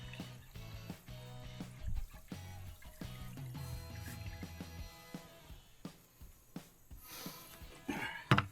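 Vinegar pours out of a container that held it overnight, a faint intermittent trickle and splash broken by clunks and handling knocks, heard close amid background hum.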